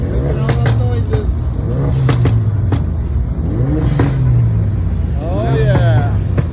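Supercar engine revving at an outdoor car show in Sanford, Florida, rising and falling in loud repeated swells with a steady low rumble throughout, voices and crowd chatter running over it.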